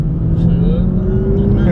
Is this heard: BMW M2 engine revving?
yes